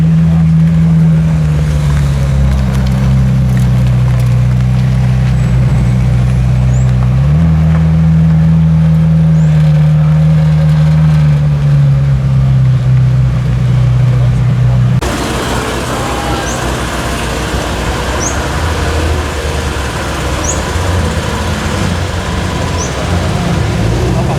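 A McLaren Senna sports car arrives at a car meet, its loud engine droning and rumbling nearby with small pitch shifts before the sound changes abruptly to quieter mixed traffic and ambient noise.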